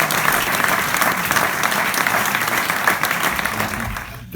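Audience applause at a sold-out poetry show by Dr. John Cooper Clarke at Hotel Cecil in Copenhagen, a dense steady wash of clapping from a large crowd that holds evenly before thinning out at the end.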